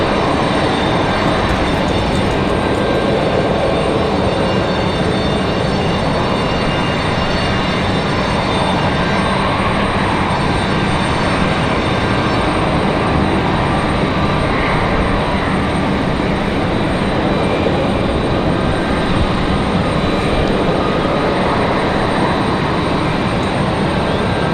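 An Embraer Phenom 300 business jet touches down at Raleigh-Durham International Airport, a loud, steady broadband engine roar that holds without a break, with no talking.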